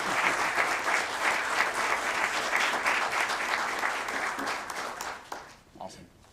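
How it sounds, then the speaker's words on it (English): Audience applause at a Newport News city council meeting after a proclamation photo op: dense, steady clapping from a room full of people that carries for about five seconds, then thins out and fades. "We can clap."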